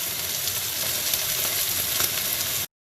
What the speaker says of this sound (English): Start flipping the beef over